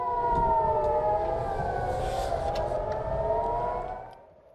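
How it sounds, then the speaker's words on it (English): Air raid sirens over Tel Aviv and Haifa during missile interceptions: a wailing siren rises and falls steadily, sounding distant over low background rumble, then fades toward the end. "Air raid sirens sounded in Tel Aviv, Haifa, and other areas"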